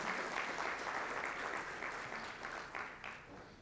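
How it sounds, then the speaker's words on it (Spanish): A church congregation claps together in a steady, even wash of applause that stays full and close, then tapers slightly toward the end, with no talk over it. "Dale un aplauso a Dios."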